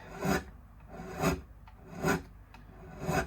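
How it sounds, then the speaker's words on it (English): Light sanding rasps over the nut or fret edges of a Martin Road Series acoustic guitar during a stainless steel refret, four short strokes at an even, slow rhythm, close and quiet with no talk. "edges to be very lightly sanded"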